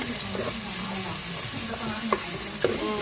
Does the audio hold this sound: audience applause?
no